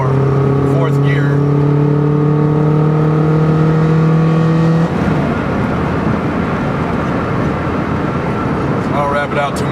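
A Subaru Impreza 2.5RS pulls hard at full throttle in fourth gear, its engine note rising steadily and loud from inside the car before the revs drop at the shift, with road and wind noise continuing.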